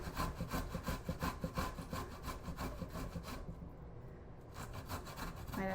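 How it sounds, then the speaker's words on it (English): Fresh ginger is rubbed against a grater in quick, rhythmic rasping strokes, close and fairly quiet, with a brief pause before the scraping resumes. "what I really like to do with ginger is grate it"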